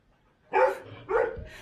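Forty-day-old pit bull puppies give two short, close yappy barks with a soft whimpering trail, heard alone in a quiet room.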